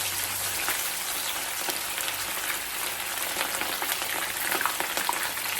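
Fish frying in hot, flavored oil for fried fish with escovitch sauce, a loud, steady, crackling sizzle that runs unbroken, close up and alone.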